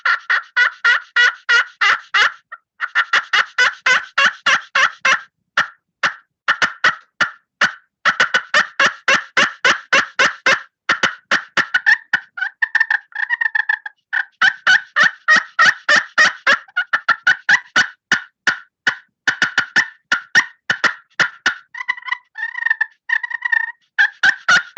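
A hand-held turkey pot call, struck to mimic a wild turkey, runs loud, rapid strings of yelps and clucks with softer rolling purrs, in near-continuous bursts separated by brief pauses.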